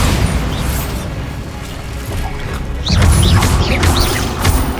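Bombarda explosion spell in Hogwarts Legacy, a heavy booming blast that swells partway through into rumbling crashes and debris, layered over dense game effects and ambience.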